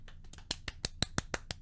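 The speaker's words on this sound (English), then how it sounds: "That was some applause. It wasn't very loud." A handful of faint, sharp claps in an uneven sequence, about a dozen light hand strikes close by and quiet, with no talking, in the video game Star Wars: Episode I: Racer.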